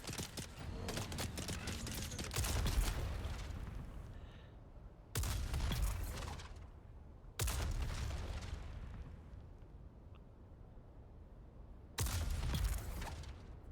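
Rocket launcher mounted on a tier 5 buggy in Dune Awakening, fired in several loud bursts with blasts and rumbling tails, separated by quieter gaps.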